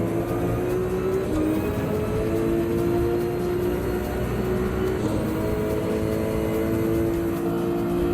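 A Ferrari race car roars through a Gran Turismo 7 daily race with a BMW close behind, its engine droning loud and steady throughout with slight shifts in pitch.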